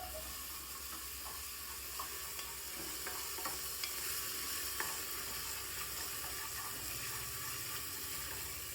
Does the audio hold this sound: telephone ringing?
no